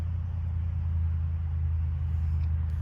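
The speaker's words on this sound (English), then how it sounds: "A lot of traffic." Road traffic on a Sunday near a brook, a steady loud low rumble of passing vehicles that continues without a break and without any voice.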